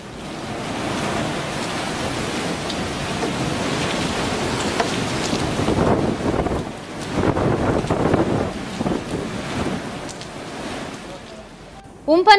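Rough sea surf and wind whipped up by Cyclone Amphan at a coastal fishing village, a loud continuous roaring wash with surging swells, unbroken by speech.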